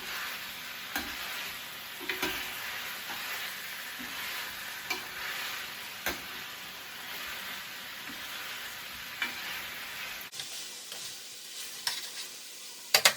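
Onions and peppers fry quietly in a pan while being stirred, a soft steady sizzle broken by occasional scraping knocks of the utensil, nobody talking.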